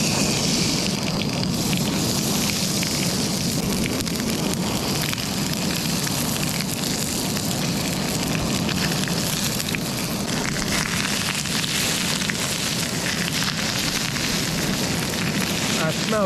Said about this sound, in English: Okay, so our char griller starts to smoke nicely.